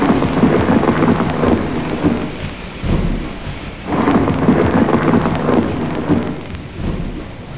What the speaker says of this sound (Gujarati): વાદળો ગરજવા લાગ્યા.